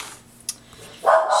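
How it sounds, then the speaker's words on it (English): A miniature schnauzer lets out one short, sharp bark indoors near the end, after a faint tap in an otherwise quiet room. "you will hear my miniature schnauzer barking"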